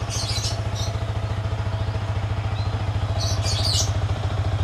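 A 2017 Yamaha R15 V3 motorcycle idles nearby with a loud, steady, rapid engine thrum and light mechanical clatter, alone without voices.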